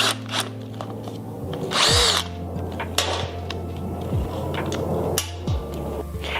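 A Phillips screwdriver works a plug out of a hole on a vacuum remote unit, with close, loud clicks, scrapes and a few tool knocks scattered irregularly over a low steady hum.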